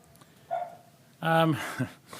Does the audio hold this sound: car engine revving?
no